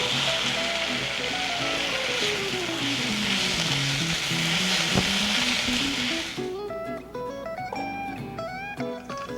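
Meat for a Japanese beef curry sizzles and fries steadily in a pan, a loud continuous hiss with crackling, while music plays underneath and becomes more prominent toward the end.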